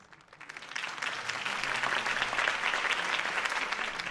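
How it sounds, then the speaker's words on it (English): Crowd applause at a political campaign speech in the Batman Telltale Series video game, rising quickly into steady, dense clapping that holds loud for several seconds. "could have heard that applause"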